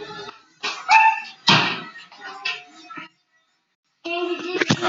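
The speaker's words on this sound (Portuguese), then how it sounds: "Tinha cachorro latindo" A dog barks and whimpers in short bursts near a house, mixed with people talking, followed by a pause and then more yips and voices.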